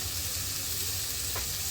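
Chopped onion and carrot sizzle steadily in hot oil in a pan for pasta, a dense, continuous frying hiss with a brief scrape partway through.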